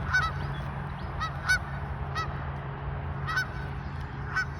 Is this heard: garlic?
no